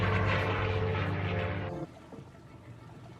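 A loud droning aircraft engine roars close by, then cuts off abruptly, leaving faint low rumbling behind.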